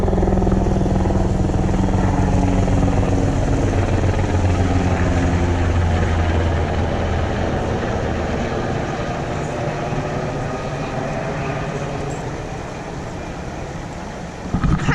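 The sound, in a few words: helicopter flying over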